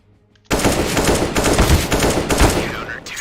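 Sustained automatic gunfire in a video game erupts after a brief quiet start and runs as a loud, dense burst of rapid shots, steady to the end.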